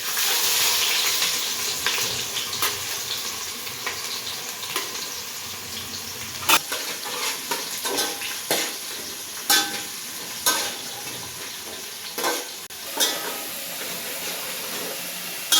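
Bay leaf and onion sizzle steadily in hot oil in a pan for veg paneer biryani, with a constant frying hiss broken by sharp clinks and scrapes of a stirring spoon, close by and with no talk.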